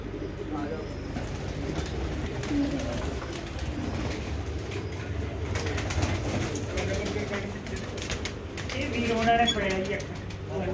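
Pigeons coo inside a village loft kept for racing birds, low murmuring calls layered under steady background noise and a nearby voice throughout.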